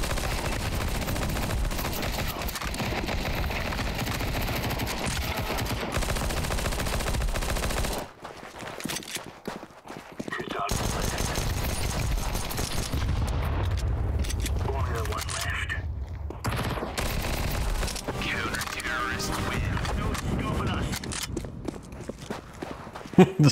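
Gunfire in Counter-Strike 2, a P90 fired while the player walks, with dense loud game sounds of shots and footsteps running almost continuously, a short quieter gap partway through.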